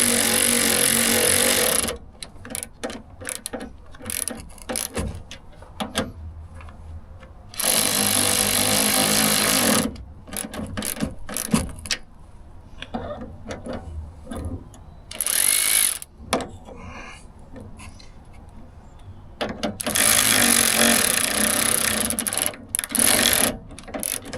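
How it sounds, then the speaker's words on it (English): Battery-powered ratchet tightening bolts while assembling a five-drawer tool cart, loud whirring bursts of a few seconds each, separated by quieter clicks and handling clatter. "Much quicker with the battery powered ratchet."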